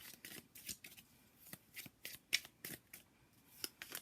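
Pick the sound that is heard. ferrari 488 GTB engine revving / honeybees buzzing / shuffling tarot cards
shuffling tarot cards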